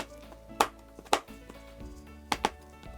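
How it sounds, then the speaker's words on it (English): Bitter chocolate is chopped finely with a knife on a board, giving four sharp, close knocks in an uneven rhythm over quiet background. "Chopping it finely at the start makes it easier to melt."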